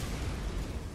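An explosion in the video game Borderlands produces a dense, continuous roaring rumble, heavy in the low end and loud throughout the brief moment.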